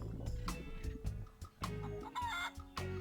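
A cartoon chicken in the video game The Curse of Monkey Island gives a quick run of clucks and squawks, close and lively, with a few bright bursts over a short stretch.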